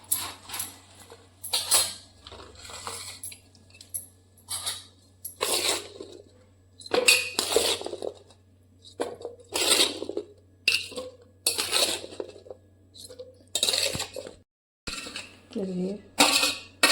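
Sweet lemon pickle being spooned and packed into a jar, with repeated clinks and scraping of utensil on glass in short bursts, close and moderately loud, under a low steady hum.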